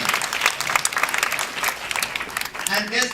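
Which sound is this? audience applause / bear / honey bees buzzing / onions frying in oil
audience applause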